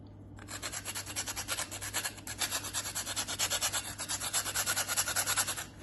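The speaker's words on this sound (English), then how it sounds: "I'm just gonna grate a little nutmeg." Nutmeg being grated by hand, a fast rhythmic rasping of rapid, evenly spaced strokes, close and steady for several seconds over a low background hum.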